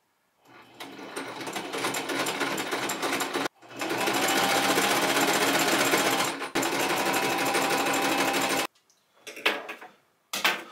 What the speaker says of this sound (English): I am all done sewing that bottom part